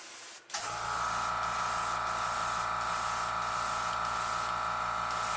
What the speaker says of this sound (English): I'm going to spray kind of on an angle here a little bit, so the color gradually fades back to the yellow